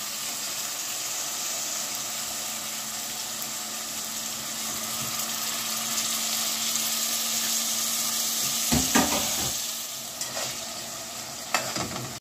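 Spice masala frying in a pan for chicken and potato curry, a loud, dense, continuous sizzle with a few stirring scrapes near the end, close up and without speech.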